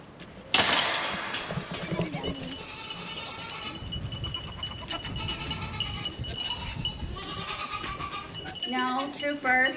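Dairy goats bleat in a barn, with a sharp knock at the start, then several wavering calls, including a rising series near the end, close by and moderately loud.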